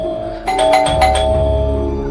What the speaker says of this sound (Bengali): এক নাগাড়ে কলিং বেল চাপতে লাগলাম